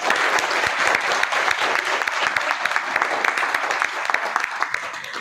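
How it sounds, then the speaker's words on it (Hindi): Seminar audience in Faridabad breaking into brisk applause, many hands clapping densely and continuously at close range for several seconds with no voices over it. "एक बार ताली बजा दीजिए।"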